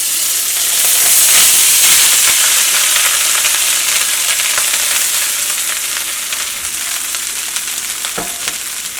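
Cooked rice sizzles and fries with spices in a hot pan for fried rice, giving a loud, continuous crackling hiss with occasional stirring scrapes throughout.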